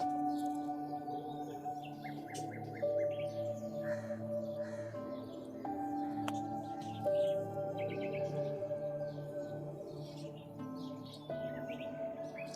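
Flying pigeons offered for sale in a loft give scattered chirps and calls, with other birds chattering at a distance over a steady low hum and no voices.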